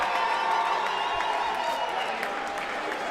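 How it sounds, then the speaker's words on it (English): A boxing arena crowd applauds and cheers after a professional women's title bout, with a loud, dense, sustained wash of clapping and shouting that stays strong from start to finish, a voice speaking faintly underneath. "a round of applause, please, for both of the boxers in this ring"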